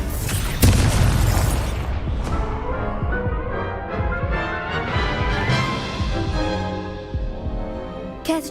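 A Confringo fire-blast spell cast in a Harry Potter video game: a loud booming burst opens, followed by rumbling, crackling impact noise and layered effects that roll on for several seconds, with a final sharp burst at the end.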